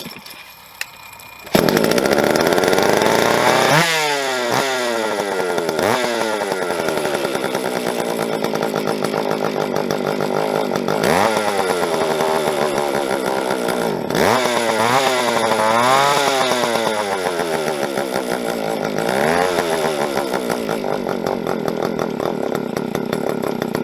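Jonsereds 520SP chainsaw starting after a pull and then running loud and close, its engine revving up and dropping back in repeated rising and falling sweeps while idling unevenly between revs.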